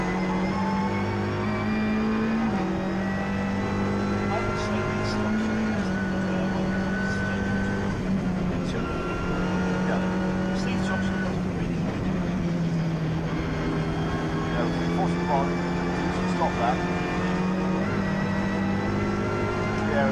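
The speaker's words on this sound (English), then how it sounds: "Car number 83 making its way, Ed Cook." Race cars, including a Ford Ecoboost Fiesta and an Alfa, drone past at Oulton Park circuit in a Britcar Trophy race, a steady loud engine roar with shifting pitch throughout, heard under faint commentary.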